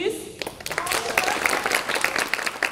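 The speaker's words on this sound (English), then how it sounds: "can we give a round of applause to the people in the audience, please?" Audience at a school fall vocal concert clapping in a steady, dense patter that swells after a brief quiet start, with voices murmuring through it.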